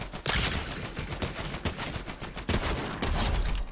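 Rapid gunfire in a first-person shooter video game, dense overlapping bursts of automatic shots rattling continuously for several seconds at close, loud range.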